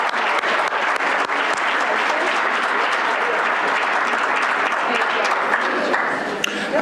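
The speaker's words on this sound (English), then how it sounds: "Let's give them another round of applause." Audience at a Rochester Board of Education business meeting applauding twins who led the Pledge of Allegiance, a dense, sustained round of clapping that fills the room evenly from start to finish.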